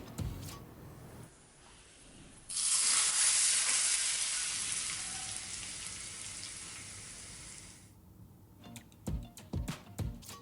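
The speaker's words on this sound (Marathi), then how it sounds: "ही खमंग फोडणी डाळीत घालायची" Hot oil tempering with curry leaves and red chilli hits a pot of raw mango dal with a sudden loud hiss that sizzles strongly for several seconds, then fades, followed by a few clicks and knocks.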